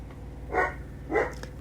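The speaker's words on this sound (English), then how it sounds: "Sorry about Oliver barking again" A dog barks twice outdoors in a yard where other dogs are present, muffled and somewhat distant, each bark spaced about half a second apart with a steady low background hum.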